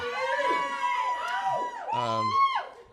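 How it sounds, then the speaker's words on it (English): A small group of friends in the audience cheers and whoops at a bodybuilding bikini championship, loud and close, with bright shouted voices lasting the whole moment. "Obviously, you have a few friends here. a little bit of a cheering section."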